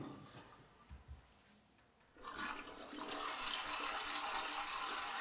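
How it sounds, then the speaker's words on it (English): A toilet flushes with a sudden loud rush of water after a quiet lead-in, roaring steadily and close for several seconds. "Toilet flush."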